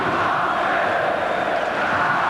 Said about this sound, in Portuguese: A torcida grita Magno Alves